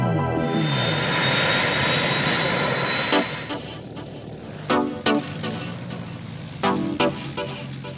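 Douglas DC-4 piston airliner flying past, a loud engine roar that fades after a few seconds, followed by scattered sharp thumps and bursts.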